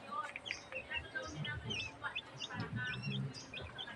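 Small chicks chirp in a quick run of high, thin peeps, several overlapping tweets close by at a soft level with little else around them.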